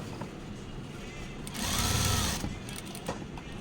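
A sewing machine top-stitching a chudithar whirs in one short, fast burst of stitching lasting under a second, set against quiet room noise and faint background voices.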